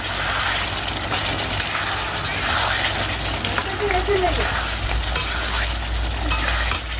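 Meat sizzling and frying in oil in a cooking pot, with a steady crackling hiss and occasional stirring scrapes throughout, a voice talking faintly over it.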